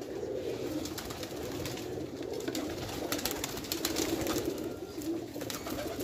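Pigeons in Lahore coo softly and continuously in a low, murmuring chorus, with a steady rustle of background noise and no talking.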